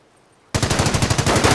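Rifle and machine-gun fire in the World War II strategy game Company of Heroes bursts in after a moment of near silence, a loud, rapid run of close, evenly spaced shots.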